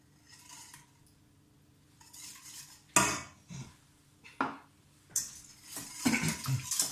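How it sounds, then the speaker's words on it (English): Spoon stirring egg into ginger cake batter in a bowl, with bursts of scraping and clinking against the bowl between quiet pauses, close and fairly sharp, growing busier toward the end. "Just combine everything together."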